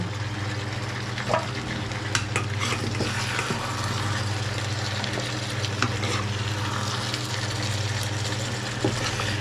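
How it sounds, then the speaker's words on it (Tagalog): Soup being stirred in a pot before it comes to a boil, a steady scraping and swishing over a constant low hum with a few louder clinks scattered through, no voices. "haluin muna natin mga kapatid at papakulo tayo ng sabaw"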